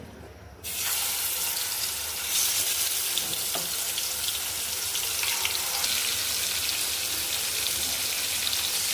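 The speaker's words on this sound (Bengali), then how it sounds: "মাংসটা ভাজি করে দিচ্ছি" Meat fries in hot oil with turmeric and salt, a loud steady hiss and crackle that begins abruptly as the meat hits the pan and then continues unbroken close up.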